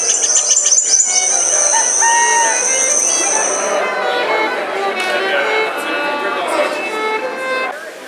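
Recorded song of an endangered bird plays from a violin-frequency interactive installation at a maker fair, bright whistled chirps and trills over a busy room with people talking around it.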